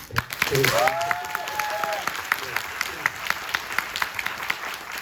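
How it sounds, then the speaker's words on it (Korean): A studio audience at a Korean film talk event claps in applause, with people speaking over the clapping and distinct individual claps standing out. "큰 박수."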